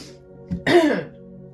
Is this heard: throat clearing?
yes